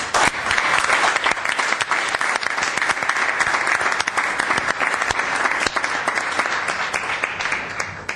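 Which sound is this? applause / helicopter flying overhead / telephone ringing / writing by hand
applause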